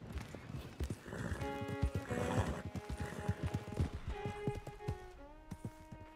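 An agitated horse in Red Dead Redemption 2 whinnies repeatedly with shrill, wavering neighs over a busy patter of hoofbeats, the calls rising and falling close by.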